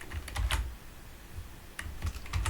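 Quick, uneven bursts of clicks from someone typing on a computer keyboard, with clusters of keystrokes separated by short pauses, close and fairly quiet.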